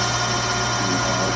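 Live tools spinning at 500 RPM on a Tsugami BS32CII CNC Swiss lathe, a steady mechanical hum with a constant whine, close and unvarying throughout.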